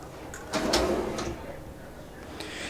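Solid kitchen drawers in a 2024 Luxe 44FL fifth-wheel RV slide open and shut with soft thuds and rolling runner noise, close by in a quiet interior.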